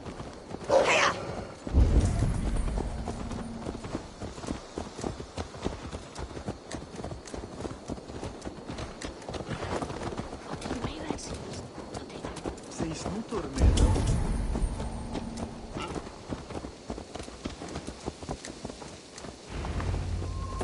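Horse hooves clip-clop across the ground in Assassin's Creed Valhalla, a steady gait running under spoken dialogue, with a couple of louder thumps and ambient game noise.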